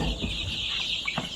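Golden (Sonali) chickens on a poultry farm cluck in a few short bursts, close and clear over a steady background hum.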